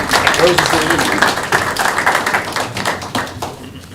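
A round of applause at a Port Royal town council meeting, a dense patter of many hands clapping from a gathered crowd, steady and fairly loud throughout, with voices mixed in.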